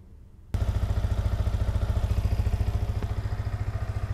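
A motorcycle engine from a Honda CB300R, Kawasaki Z300 or Yamaha MT-15 starts up after a moment of quiet and then runs at a steady, smooth idle, close and loud, its even pulsing continuing without interruption.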